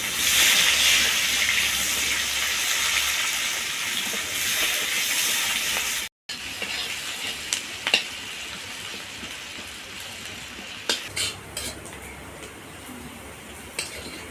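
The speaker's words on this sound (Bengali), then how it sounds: "এবার পেঁয়াজ কুচিগুলোকে দিয়ে লাল করে ভেজে নেব।" Chopped onions frying in mustard oil with nigella seeds and whole dried red chillies, a steady close hiss of sizzling that runs without a break, a short silent gap, then faint clinks from utensils.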